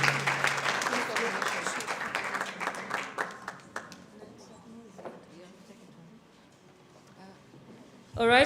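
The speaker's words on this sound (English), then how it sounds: "Let's clap for them once more time." An audience applauds at an International Migrants Day event in Kenya, many hands clapping together. The applause starts full and loud, then thins and fades to scattered claps, and voices murmur near the end.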